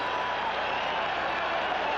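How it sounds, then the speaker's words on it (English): A football stadium crowd roars at Packers at Bears in Chicago, a dense, steady wash of cheering and applause heard from a distance, unbroken for two seconds. "The crowd alive here as the quarter comes to a close"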